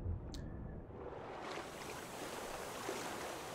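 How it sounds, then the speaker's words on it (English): Waves slosh and wash steadily around a small boat near an island as a storm approaches, a constant watery hiss at low level, with a brief knock at the start and no talking. "the waves are getting bigger"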